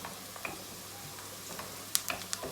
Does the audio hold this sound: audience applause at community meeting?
no